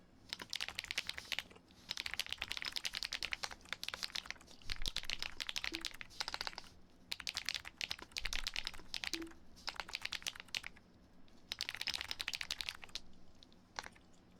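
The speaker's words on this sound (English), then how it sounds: "Let me know if you want me to turn down the keyboard sound." Rapid typing on a computer keyboard fills the space up close, coming in dense clattering bursts separated by short pauses, with no voices.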